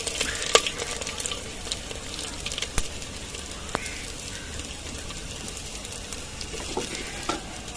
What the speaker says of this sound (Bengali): একটা কালো এলাচ, একটা সাদা এলাচ, জিরে আর দারচিনি, লবঙ্গ সব আমি দিয়ে দিলাম ফোড়নের জন্য।